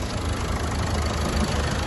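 A 2015 Ford EcoSport Titanium diesel engine idles steadily, a continuous low rumble with a dense mechanical clatter, held at an even level throughout and heard alone.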